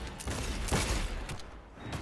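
Sustained gunfire in the video game Cyberpunk 2077, a loud continuous fusillade of rapid shots with bursts and mechanical clatter filling the whole moment.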